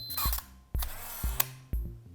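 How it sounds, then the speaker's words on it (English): Four sharp shutter clicks from a Pentax PC35AF-M film camera, each followed by a short electronic low-light warning beep, come at a steady pace with about half a second between them. "That little beep that you hear when I'm shooting the shutter button is a reminder"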